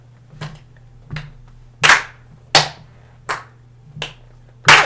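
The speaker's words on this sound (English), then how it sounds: "can everyone clap when I'm pointing to their number, but not when I'm pointing someone else's" A group of people in a music education session claps on a conductor's cue, giving about seven sharp, separate bursts at uneven intervals, some louder than others, over a low steady hum with no talk.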